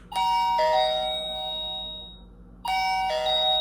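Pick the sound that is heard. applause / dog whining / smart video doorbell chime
smart video doorbell chime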